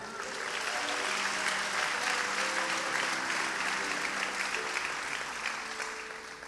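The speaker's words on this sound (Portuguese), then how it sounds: "Aplauda o nome dEle." Congregation applause at a Pentecostal church service, steady dense clapping that fills the room for several seconds, with faint voices and a tonal hum underneath.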